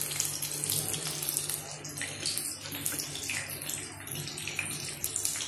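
Chicken lollipops sizzle in hot oil, a steady close crackling hiss with fine popping bursts that continues throughout, with no talk.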